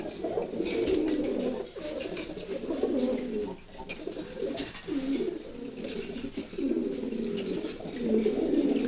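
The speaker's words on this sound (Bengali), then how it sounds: "এটা একটা পুরনো নর কবুতর পুরনো ব্লাড লাইন দেখেন" An old male Giribaz pigeon coos in a steady series of low, rolling calls, close by and fairly loud, with brief pauses between bursts and no talk over it.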